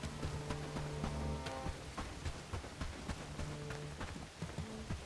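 Steady rain patters across the scene in the video game Bellwright, with occasional soft thuds and a low droning tone underneath; no one speaks.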